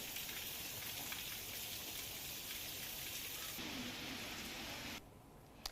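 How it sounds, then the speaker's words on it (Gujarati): Steady hiss of light rain falling in Wadiya, Amreli, Gujarat, dense and even throughout, dropping a little quieter near the end. "ક્યાંક ભારે તો ક્યાંક ધીમી ધારે વરસાદ વરસી રહ્યો છે"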